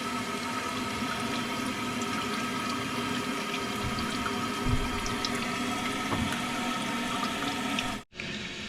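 Water gushing steadily from a tap into a container, a loud continuous rushing pour, close by, with a brief cutoff near the end and no voices.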